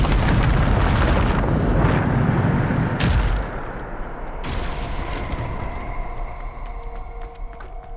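A heavy, rumbling Bombarda explosion spell from Hogwarts Legacy booms loudly for about three seconds, then cuts to a quieter, lingering echo with a few faint impacts.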